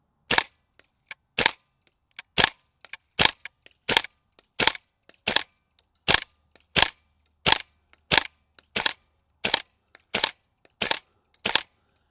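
Airsoft rifle shots fired one after another at roughly even half-second to one-second intervals, each a sharp, close, loud snap with near silence between, about twenty shots in all.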